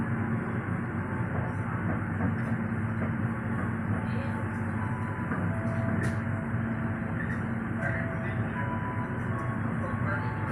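A Gaya Baru Malam Selatan passenger train leaves Lempuyangan station in Yogyakarta at seven in the evening, producing a steady rolling rumble with rail rattle and faint scattered clicks.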